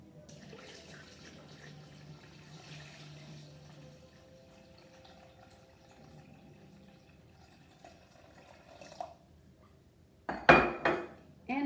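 Water runs from a tap into a Thermomix bowl for a green drink, a faint steady pour followed by louder clinking and clattering of kitchen utensils near the end.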